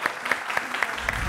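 A studio audience applauds in short, steady clapping bursts for a Romanian family World Cup quiz show, brief and moderately loud.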